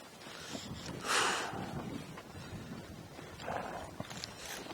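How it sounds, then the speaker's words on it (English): A horse steps backwards while being ridden in a Missing Link snaffle, a few soft, muffled hoof falls with a scuffing rustle, fairly close, with no talking over them. "I'm going to ask this horse to walk backwards."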